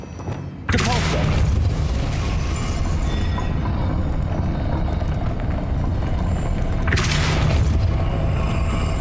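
A Depulso spell cast in Hogwarts Legacy gives a sudden loud blast that opens into a sustained rumbling roar, and a second sharp burst comes near the end over the same heavy low drone.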